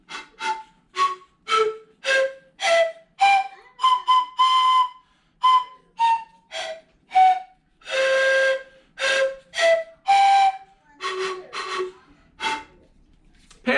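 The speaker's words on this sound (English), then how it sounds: "So all you need to do to make pan pipes at home is you just need some straws." Homemade pan pipes made from drinking straws are blown in a quick run of breathy whistled notes, each short and separate, stepping up and down in pitch, close and fairly loud.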